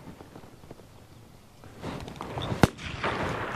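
A single sharp gunshot cracks out during gun introduction training for five-month-old field-bred English cocker spaniel puppies outdoors. The report is moderately distant and comes after rustling and movement noise.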